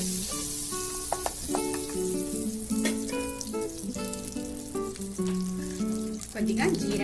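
Butter melts and sizzles in a pan for chicken tikka masala, a continuous close hiss with scattered crackles and occasional utensil clinks, while faint tonal background sounds run underneath.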